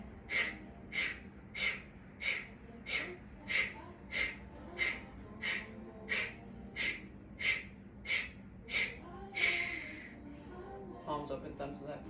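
Deep, rhythmic breaths during a guided breathing exercise, about fourteen evenly spaced airy inhale-exhale cycles close to the microphone, followed by softer irregular breathing at the end.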